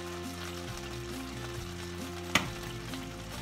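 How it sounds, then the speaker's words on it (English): Butter melting and heating in a frying pan before an egg goes in, giving a steady, moderately loud sizzle and crackle throughout, with one brief sharp clink partway through. "We wait until the butter in the pan is completely melted and heated to temperature to fry an egg."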